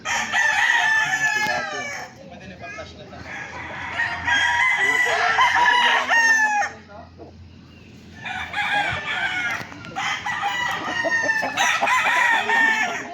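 Roosters and chickens at a poultry farm crow and cluck loudly and continuously, several birds overlapping close by with a brief lull in the middle, a faint voice in the background.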